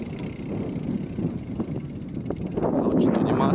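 Wind buffeting the microphone while driving on a wet, muddy dirt road toward Cânion Fortaleza in Cambará do Sul, a steady low rumble and roar that grows rougher and louder toward the end.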